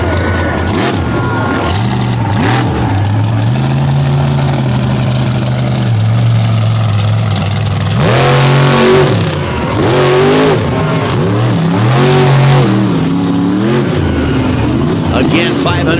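A monster truck powered by a 557 cubic inch Chevy engine under a GMC body revs loudly at a show, its deep engine rising and falling in repeated bursts while an announcer talks over it.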